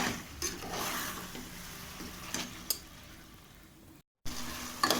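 Mutton biryani masala sizzles quietly in a pan under a steady, low frying hiss, with a few light scrapes of stirring and a brief cut to silence near the end.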